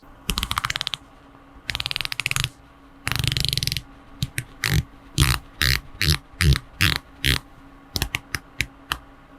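A unidirectional dive bezel on an OMEGA Planet Ocean Ultra Deep watch with a dark blue ceramic insert is turned close up: fast runs of crisp ratcheting clicks first, then slower separate bursts of clicks with short pauses between them.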